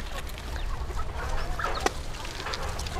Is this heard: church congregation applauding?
no